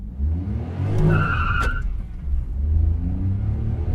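A Ford Freestyle BS6 car accelerates hard with its wheels spinning until traction control kicks in: a steady, loud engine rumble with brief tire squeal and skid noise, no talking.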